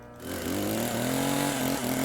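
A chainsaw revs in a video game set in the backrooms, its loud, steady engine whine sustained and slowly rising in pitch after a brief quieter start.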